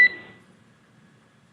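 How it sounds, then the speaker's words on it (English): A single sharp electronic alarm beep aboard a SpaceX Dragon capsule, loud at the start and quickly decaying into a faint ringing tone over low background noise. "There is a chance that we get a lot of alarms."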